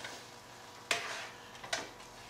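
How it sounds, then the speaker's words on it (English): Shrimp sauce stirred in a pan with fettuccine rigate nearby, a low background sizzle broken by two sharp scraping clatters of a utensil against the pan, roughly a second apart. "We're gonna stir a little bit just to get it all mixed in there"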